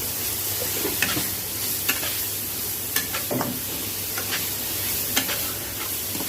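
Spices are stir-fried in a pan for mustard hilsa curry, a constant crackling sizzle with intermittent spatula scrapes and taps, steady and close, with no voices.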